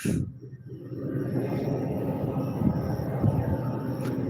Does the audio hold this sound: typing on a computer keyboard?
no